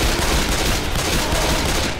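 Sustained gunfire in the zombie shooter video game Left 4 Dead 2, a dense, loud, continuous barrage of overlapping shots filling the whole moment without any voices.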